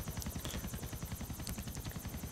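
A helicopter in the PC game GTA IV gives a steady, fast rotor chop, evenly pulsing and fairly faint, with no talking.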